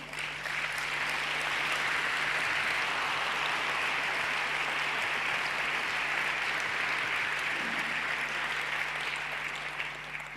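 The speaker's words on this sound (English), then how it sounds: "An applause for him" Steady applause from a large conference audience at a hacker congress in Germany, continuous dense clapping at moderate distance with a constant low electrical hum underneath.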